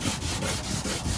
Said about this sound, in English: bro, are you sanding it?